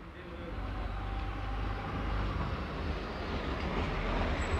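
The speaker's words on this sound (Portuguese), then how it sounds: "Tô derrapando, velho." A motorized Caiçara aro 20 skids, a loud continuous rumbling roar with wheel and motor noise building slightly toward the end, heard up close.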